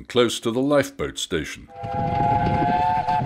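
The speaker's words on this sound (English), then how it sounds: "blows the whistle and slows for the Dungeness Road level crossing" A Romney Hythe & Dymchurch railway locomotive sounds its whistle while slowing for the Dungeness Road level crossing near the lifeboat station: one long, steady, loud whistle blast over train rumble, following brief speech.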